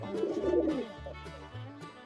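Soft pigeon cooing sounds in a low, rolling murmur over a faint background, with no voices.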